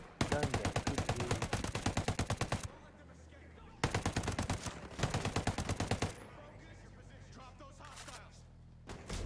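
Rapid automatic gunfire in the Ghost Recon Breakpoint video game comes in long sustained bursts, with a short pause and then another burst, loud and close, followed by scattered shots.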